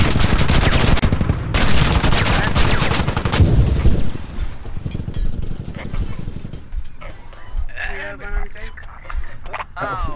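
Heavy automatic and single-shot gunfire from the multiplayer military shooter Squad, dense and loud at first, then thinning into scattered distant shots and vehicle rumble, with a voice speaking over the later part.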